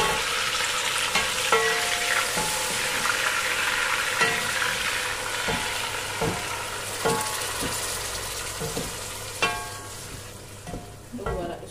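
Leek and onion sizzle steadily in hot oil in a pan, a continuous loud frying hiss with scattered clicks of stirring throughout, close up and without talk.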